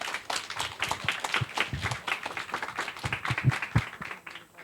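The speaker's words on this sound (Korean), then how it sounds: "박수로 부탁드리겠습니다." An audience at a Korean sustainable-city forum claps for a Starbucks Korea ESG team leader coming to the stage, dense and steady applause filling the room for several seconds with no talk over it.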